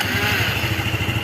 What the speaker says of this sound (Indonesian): Ini kalau dihidupkan tetap motornya hidup tanpa aki.